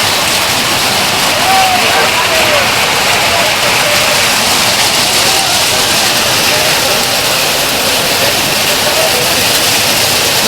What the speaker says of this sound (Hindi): देखेंगे बारिश ओले बर्फ़ पड़ते हुए